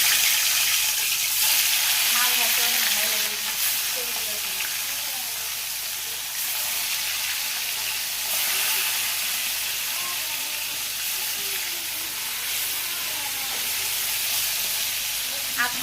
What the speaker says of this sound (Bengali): তেল দিয়ে দিয়েছি, তেলও গরম হয়ে গেছে। এখন আমি মাছগুলো দিয়ে দিব।